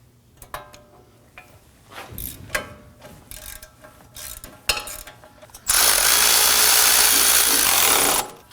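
A 19mm socket tool works on the wheel hub bolts of a 2017-2024 Nissan Armada with scattered clicks and metallic knocks, followed by a loud, steady whirr of a power tool running for a few seconds.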